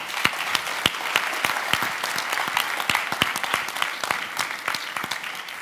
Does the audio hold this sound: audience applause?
yes